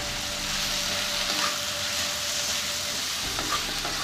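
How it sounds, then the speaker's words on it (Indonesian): A stir-fry seasoned with oyster sauce and sesame oil is stirred in a pan over high heat, giving a steady close sizzle with soft scraping and clinks throughout, no voices. "kemudian diaduk rata"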